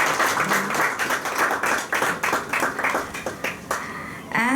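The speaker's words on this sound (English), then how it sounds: "A huge round of applause." Audience applause at a fertility center's grand launch event, dense clapping sustained throughout with a rising burst near the end, loud and close, with some faint voices mixed in.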